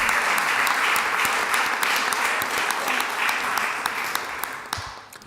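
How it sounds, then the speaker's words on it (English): A room at a city council meeting fills with steady audience applause for a girls' sports team, many hands clapping continuously at moderate distance before tapering off at the end. "So clap it up for those girls."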